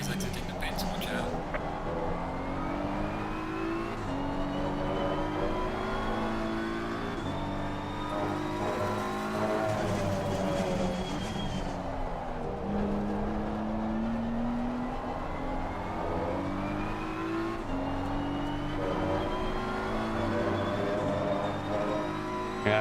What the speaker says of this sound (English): The car is exiting the pit, watch out.